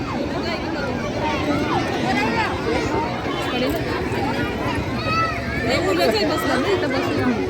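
A large crowd at a big Marathi gathering fills the air with continuous overlapping chatter and hubbub, steady and close, with no single voice standing out.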